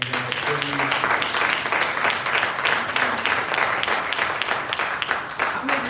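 A church congregation claps and applauds in praise to God, a dense, sustained wash of many hands clapping throughout, with voices calling out under the clapping.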